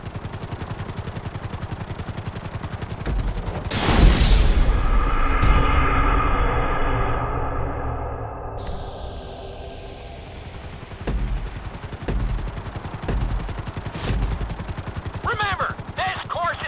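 A helicopter in Grand Theft Auto 5 gameplay, with a loud burst of engine and rotor noise followed by a steady, fading drone, later broken by sharp impacts and clicks.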